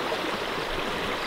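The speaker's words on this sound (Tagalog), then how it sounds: "Biglang lumakas na yung current, tapos tumaas na yung tubig." A river current rushing hard after a sudden rise in water coming down from the mountains, a loud steady broadband roar of flowing water that fills the whole clip without a break.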